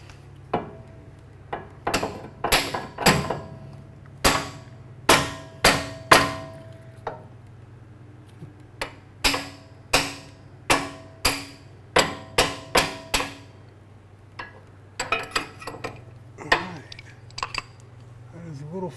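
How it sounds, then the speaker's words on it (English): Sharp metallic hammer strikes driving in an engine freeze plug at an irregular pace, some in quick pairs, others spaced out, close by over a low steady hum. "And then I'm going to smack it with a hammer."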